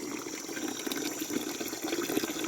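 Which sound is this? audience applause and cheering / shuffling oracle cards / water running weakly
water running weakly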